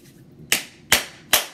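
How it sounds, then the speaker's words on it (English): Three sharp hand claps at an even pace, close and loud, in a quiet room with no speech, as part of a Reiki energy exercise. "clap your hands a couple times"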